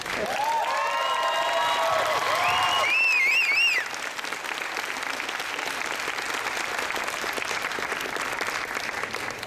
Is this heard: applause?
yes